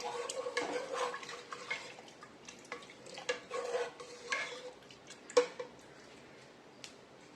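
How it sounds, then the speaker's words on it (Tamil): A spoon stirs and scrapes inside a pot with rice and water for tomato rice, producing soft irregular clinks and swishing, with one sharper knock near the end. "நல்லா கிளறிக்கலாம்."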